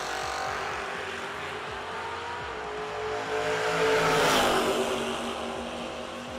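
Bracket drag racing car launching and accelerating down the strip, a steady engine roar heard from a distance that swells and peaks as the car passes near midway, then fades slightly.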